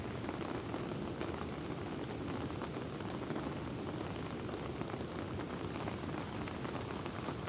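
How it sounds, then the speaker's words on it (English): Heavy rain pours steadily at a creekside campsite during a major storm, a dense continuous hiss of drops drumming on surfaces, loud and close with no pauses. "Three inches of rain today."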